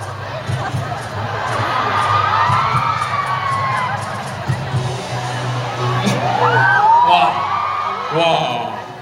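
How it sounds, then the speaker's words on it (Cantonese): A crowd cheers and shouts at a Hong Kong concert and fan-signing event, loud sustained whoops and high children's voices swelling and fading over a bed of music, with no clear applause. "我俾啲歡呼聲、掌聲啲小朋友先好嘛？"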